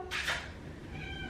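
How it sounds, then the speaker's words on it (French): A pet cat meows unhappily indoors, one drawn-out, fairly close cry near the start, followed by a quiet room. "c'est mon chat."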